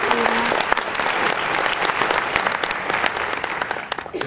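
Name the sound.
audience applause at a chorus concert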